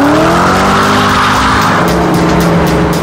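A new Ford GT supercar drives hard with a loud close engine roar and screeching tire squeal sweeping through, with no talk over it.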